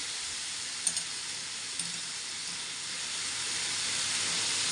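Kavlechi bhaji, wild monsoon greens, hitting a hot pan with a bright steady sizzle that swells slightly toward the end, a couple of small clicks early on, no voices.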